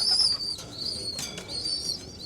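Young pigeons in a loft give high, squeaky cooing calls in short bursts over a soft, steady background, fairly close, with no talk.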